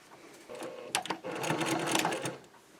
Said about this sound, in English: you're literally just sewing binding to binding at this point